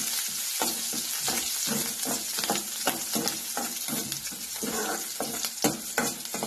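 Green chillies fry in a hot pan while a fasting dosa is prepared, giving a loud, continuous close-up sizzle broken by repeated crackles and stirring scrapes.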